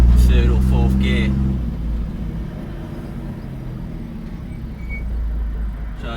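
A 1958 GMC Apache Fleetside pickup's engine rumbles low and steady while the truck drives along UK roads held in second gear, a brief voice at the start before the drone carries on alone.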